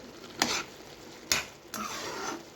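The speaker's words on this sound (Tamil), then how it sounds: "இப்படி கரண்டியை வச்சு நம்ம நல்லா அப்படியே கலந்து விட்டுக்கணும்" A ladle stirring bread halwa soaked in sugar syrup in a pan: two sharp metallic scrapes and a longer sweep against the pan, close and fairly quiet over a faint background hiss.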